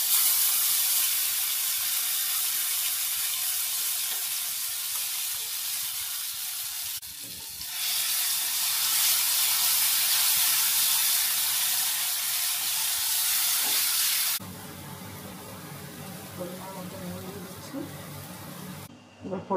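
A paste of mustard, poppy seed and green chili fries in a pan for stuffed bitter gourd, giving a loud, continuous, hissing sizzle that drops abruptly to a quieter bubbling fry partway through.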